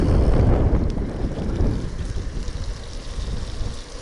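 Strong wind in a sandstorm roaring and buffeting the microphone with heavy low rumbling, loud and continuous, easing slightly toward the end.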